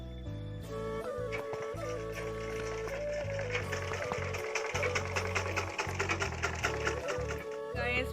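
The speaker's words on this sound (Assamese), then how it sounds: "কাপোৰ চিলাই লওঁ, কাপোৰ অকণমান আছে চিলাব লগা" A sewing machine stitches cloth with a rapid mechanical whirring and ticking that speeds and pauses in spurts, close by and fairly quiet.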